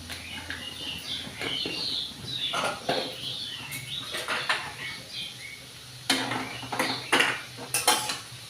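Bitter gourd curry stirred with salt in a pan, giving repeated scraping and clinking of a spoon against the metal, moderately close, with no talking.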